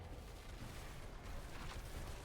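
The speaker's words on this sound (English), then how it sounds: "Managed to avoid most of these explosions" Dense, rumbling explosions from the Diablo IV video game, played as a Blizzard Sorcerer, form a continuous low boom with a hissing wash over it, held at a fairly quiet, steady level throughout.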